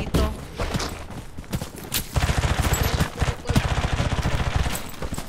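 Rapid gunfire from a video game firefight near a mountain with a sniper positioned above, crackling in dense, continuous bursts that grow heavier midway and carry on steadily to the end.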